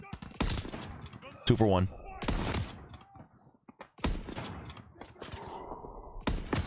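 Gunfire in the Call of Duty WWII video game: a handful of loud, sharp shots and short bursts spaced a second or two apart, with a player's voice talking between them.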